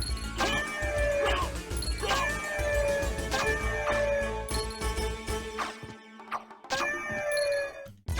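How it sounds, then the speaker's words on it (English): Ghost enemies in Castlevania: Symphony of the Night wail like dying cats, with repeated rising-and-falling shrieks over layered game music and sound effects, loud and close. "these ghosts that sound like dying cats"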